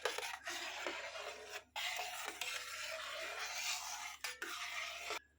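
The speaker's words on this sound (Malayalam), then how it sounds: "ഇനി നമുക്കിത് ഒന്ന് നന്നായിട്ട് മിക്സ് ചെയ്യാം എണ്ണയിൽ" Pepper, camphor and lemon juice being stirred into oil for homemade kachiya enna hair oil, a continuous scraping, rubbing swirl broken by short pauses, close and steady.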